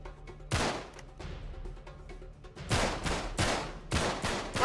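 Gunfire in Uncharted 3: Drake's Deception, a single loud shot followed by a pause, then a rapid string of four or five close, sharp shots with echoing tails.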